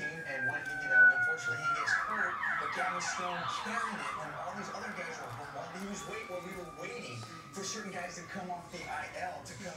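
Police sirens wail and sweep in the distance as people celebrate in the streets of the South Bay area of Los Angeles, the rising and falling tones layered over faint background murmur and talk.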